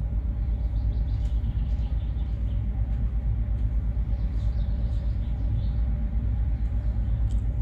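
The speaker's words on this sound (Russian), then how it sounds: "шум моторов нашего теплохода" Steady, loud low rumble of a river cruise ship's motors running without a break, heard on board the vessel "Malenky Prints" on the Tver to Moscow route, with faint higher chirps over it.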